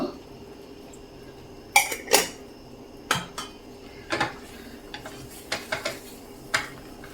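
A spoon clatters and scrapes against a pan while a burfi mixture with ghee is stirred over low heat, with sharp, irregular metallic knocks at close range over a quiet background.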